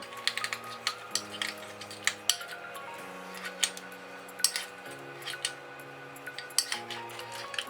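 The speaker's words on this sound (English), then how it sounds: "Straight in the yogurt, we're gonna mix them around. Stir them in as well as we possibly can." Spoon stirring oats into yogurt in a bowl, a steady series of close, light clinks and scrapes repeating at an irregular pace.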